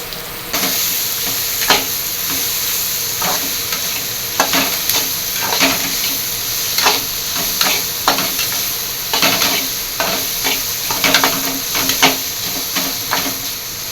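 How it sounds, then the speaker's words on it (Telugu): A loud, steady sizzle of prawns frying in hot oil, broken by repeated scraping strokes of a spoon stirring the pan. "రొయ్యలను అయితే ఇప్పుడు మరుగుతున్న నూనెలు అయితే కలుపుదాం వేపుదాం"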